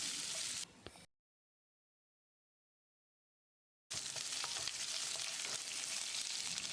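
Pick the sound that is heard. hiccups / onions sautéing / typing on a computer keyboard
onions sautéing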